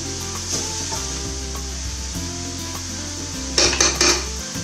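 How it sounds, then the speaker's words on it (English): A cauliflower stir-fry with coriander, lemon juice and lemon rind gets a quick stir in a hot pan: a continuous sizzle over a steady low background hum, with a short cluster of scraping, clinking utensil strikes near the end. "Quick stir."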